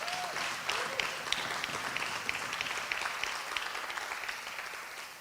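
An audience at an awards ceremony applauds steadily for several seconds, a dense wash of clapping with a few sharper individual claps standing out, fading slightly at the end.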